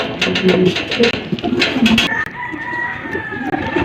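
Racing pigeons, including a checkered Taiwan bird, are pushed into their loft trap, with loud, close cooing and fluttering throughout and wings flapping near the microphone.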